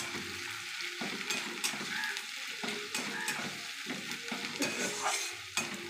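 Chili being fried and stirred with cumin and coriander powder, with a steady close sizzle from the oil and repeated scraping stirs of the spatula against the pan throughout, and no talking.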